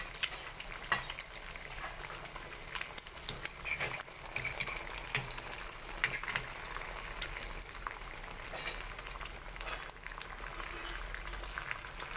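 Two eggs frying in a pan for a morning breakfast, giving a steady, fairly faint crackling sizzle that runs unbroken for the whole stretch, with no voices.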